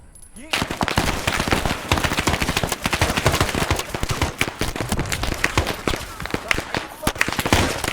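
Rapid automatic gunfire and overlapping shots from the Vietnam War video game SOG / Rising Storm 2: Vietnam during a Hue City rescue operation, loud and nearly continuous bursts with players talking over the shooting.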